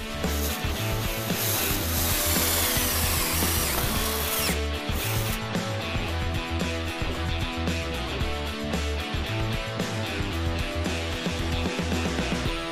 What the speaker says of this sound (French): Il peut maintenant percer un petit trou avec le foret à métal.